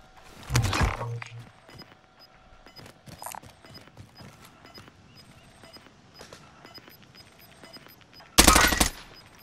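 Gunfire in Call of Duty Warzone, with loud close bursts at the start and end and scattered quieter shots and impacts in between, no talk.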